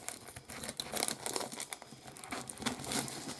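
Parcel packaging being cut open, with close, busy crinkling and tearing of plastic and paper in irregular bursts, fairly loud and with no talk.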